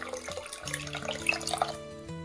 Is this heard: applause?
no